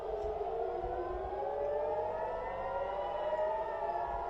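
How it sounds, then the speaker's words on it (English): Air raid sirens sound across Tel Aviv during missile alerts, a distant wailing civil-defense tone rising slowly and holding steady throughout, with no talk over it. "The air sirens are going off right now."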